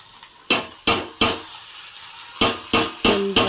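Vegetable bhaji dropped into a hot tempering in a pan, giving several loud, sharp bursts of sizzling and stirring in two clusters, with quieter gaps between them.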